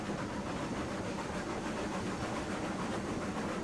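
A train locomotive running on track in Railroads Online, a steady, continuous rumble and rolling noise close by, with no breaks and no voices.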